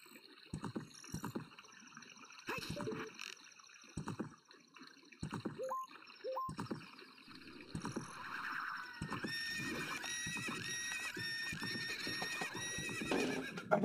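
A horse whinnies in a short, high-pitched neigh midway, amid hoof clops and game sound effects in Ocarina of Time with a tonal musical bed, fairly quiet overall.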